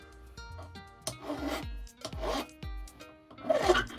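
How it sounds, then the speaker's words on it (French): A large flat file rasps across the edges of a silver earring in repeated strokes, about five close, moderately loud passes, each with a rough scraping texture. "Je lime les bords pour refaire l'arrondi. J'utilise une grosse lime plate."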